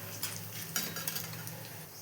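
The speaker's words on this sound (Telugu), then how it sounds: "ఇప్పుడు ఈ పోపునంతా బాగా దోరగా వేయించుకోవాలి" Tempering of cumin and dried red chilies frying in oil in a pan, a soft steady sizzle with a few light spoon scrapes, close but faint.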